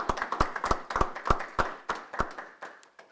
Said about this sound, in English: We should give Julian a round of applause for his accomplishments.